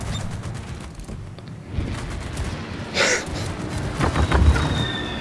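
Battleship guns in World of Warships fire high-explosive shells, heard as low distant booms and rumbling detonations scattered across the stretch, with a sharper crack partway through and a louder impact toward the end.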